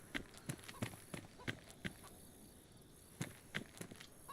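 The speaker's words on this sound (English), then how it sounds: "Definitely heard footsteps." Footsteps in DayZ on the Livonia map, a quick irregular run of crisp steps that pauses briefly and then resumes, moderately close and heard alone.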